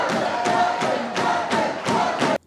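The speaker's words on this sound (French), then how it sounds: "la satisfaction des parents, exprimée ici par ces cris de joie et ces salves d'applaudissements" Parents at a university graduation ceremony in Pointe-Noire cheer and shout in loud rhythmic bursts, with pulsing crowd roars repeating about twice a second before cutting off abruptly.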